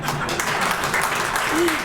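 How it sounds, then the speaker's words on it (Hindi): A poetry gathering's audience applauds in a short burst of clapping, close and fairly loud, with a voice speaking over it. "तो आज बग़ैर तमाशे की भी तालियां हो जाएं, कोई बात नहीं।"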